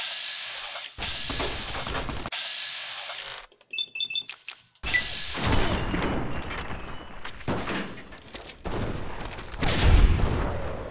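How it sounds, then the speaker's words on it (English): Gunfire from several enemies in Fallout: New Vegas, loud bursts and volleys in dense clusters, broken by a brief lull with clicks and beeps before the shooting resumes heavily. "There's apparently a multitude of enemies firing at me now."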